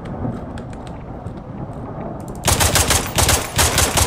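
Rapid video game gunfire in Warbox erupts in loud, crackling bursts after a quieter stretch of low rumble and faint clicks, with short automatic volleys repeating near and sharp.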